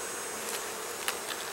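Honeybees buzz steadily around an open hive during an inspection of capped worker brood, a close, continuous hum with no talking over it.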